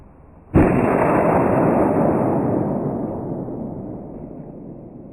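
A single loud, close gunshot from a .380 Auto handgun, a sharp sudden blast that follows a quiet moment and then rings out in a long, slowly fading roar of echo.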